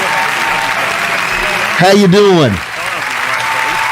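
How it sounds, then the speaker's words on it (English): Studio crowd applause effect on a radio show, a steady wash of clapping and cheering that runs the whole time while someone talks over it briefly in the middle. "That crowd, I tell you, they just go on forever when they get a superstar in the house"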